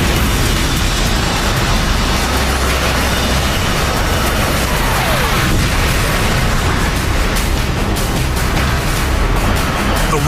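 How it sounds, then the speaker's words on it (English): A Sidewinder missile explodes on striking its target in aerial combat, a loud, dense blast with a sustained roaring rumble that fills the whole stretch without letting up. "The missile hits home."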